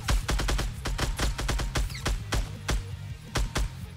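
Fortnite gunfire: loud, sharp shots in quick uneven bursts, some clustered rapid-fire and others spaced apart, over a low rumbling background.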